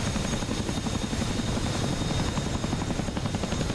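A CH-47 Chinook helicopter in the DCS flight simulator produces a steady, loud rotor thump and turbine roar that fills the whole clip without pause, with no voices.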